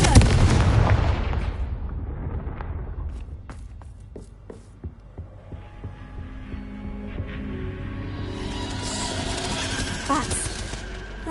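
In the video game Hogwarts Legacy, a Confringo explosion spell opens with a loud, heavy blast. Its rumble then fades, and sharper crackling and clattering effects follow.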